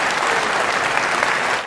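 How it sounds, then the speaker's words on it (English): An audience applauding, a short dense burst of clapping from a crowd, loud and continuous throughout. "That's literally an audience of people applauding their own demise."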